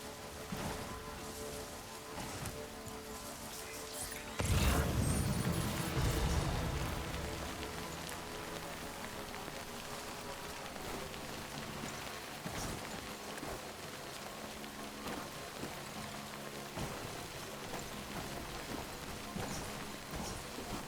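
Rain pours steadily in the video game Death Stranding, a constant soft hiss of falling drops with a louder, heavier burst partway through before it settles back to an even patter, with no talk over it.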